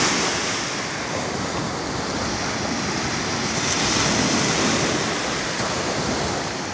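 Atlantic Ocean surf roars steadily at Varadero beach, Cuba, a dense continuous wash of breaking waves with a little wind mixed in.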